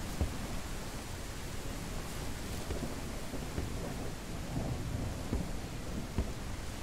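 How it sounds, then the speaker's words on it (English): Steady rain pours in the video game Ranch Simulator, with low rumbles of thunder rolling through a constant hiss of rainfall at a fairly subdued level. "It is raining."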